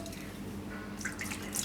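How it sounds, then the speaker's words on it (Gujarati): Water trickles into curd in a kitchen while tomato raita is being made, a soft faint pour with light dripping splashes toward the end. "તો આમાંથી થોડુંક પાણી આપણે નાખીશું આમાં"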